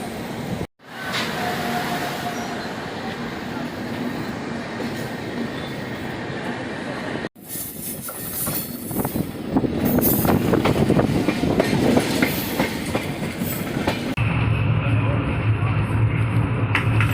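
The Jaynagar–Kolkata Express rumbles steadily out of the station, a continuous loud roar of wheels and carriages with clickety-clack and faint squealing, growing denser as it gathers pace, with voices audible over the noise.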